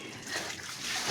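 Water splashing and sloshing in a swimming pool, a steady broadband wash of splatter filling the short moment at close range.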